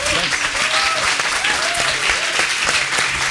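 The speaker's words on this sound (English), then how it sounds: "Let's give them a warm round of applause." A crowd applauds warmly, steady dense clapping throughout with a few whoops rising above it.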